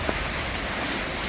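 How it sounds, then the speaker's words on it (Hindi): First monsoon rain pours steadily onto a rooftop vegetable garden in Raipur, a dense, even hiss of drops spattering on surfaces and leaves, continuous and close with no voices. "खुशखबरी रायपुर में पहली बारिश मानसून की।"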